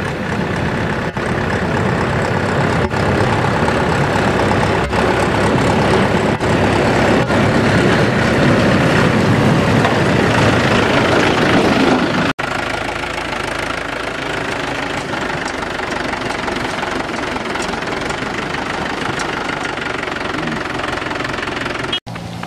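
A tractor engine runs loud and close with a steady, knocking diesel rumble near a village road, easing slightly halfway through but continuing without pause.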